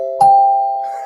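A single bell is struck once and rings out clear and sustained, its steady tone slowly fading over about a second, loud and close with no voices.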